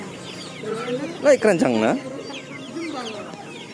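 Chickens cluck in a burst of harmonic calls at a market selling free-range village chickens, mid-distance, with someone speaking over the bird noise.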